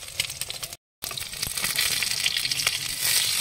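An egg sizzles and crackles in a hot frying pan, a steady close-up hiss that cuts out briefly and then returns stronger and brighter.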